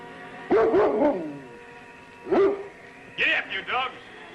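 Sled dogs in the Yukon bark and yip in short bursts in a 1950s television drama, mixed with someone shouting commands to them, with the later high yelps close and sharp.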